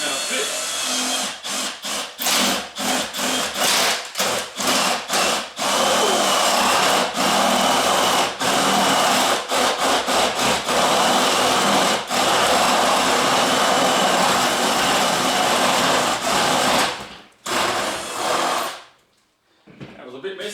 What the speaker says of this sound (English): Now I've just got to drill that out.